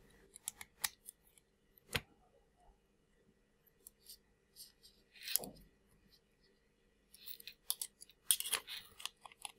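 A small screw is driven down to fix the motor of a WLtoys K989 RC drift car, heard as quiet, close clicks and scrapes of a screwdriver spread across the clip, with a brief squeak.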